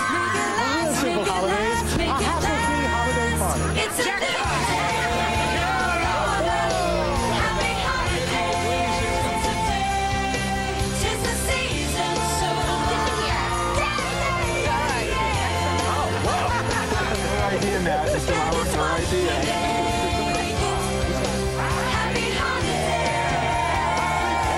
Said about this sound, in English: So some screaming girls.